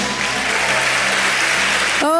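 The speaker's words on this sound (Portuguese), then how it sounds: "um aplauso para a mãe do Rodolfo" Loud, thick applause from a church congregation fills the room, then a voice starts speaking over the final moment as it dies down.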